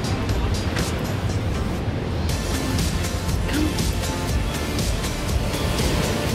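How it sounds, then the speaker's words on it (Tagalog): Strong ocean waves break and surge on a Maldives shore. A dense, continuous wash of surf roars loudly throughout, with no lulls. "Dito malalakas ang alon."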